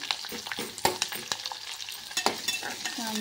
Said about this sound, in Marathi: तेल टाकून घ्यायचं आणि त्याच्यामध्ये आपल्याला घालायचं आहे कढीपत्ता। त्याच्यासोबत मी घातला आहे कांदा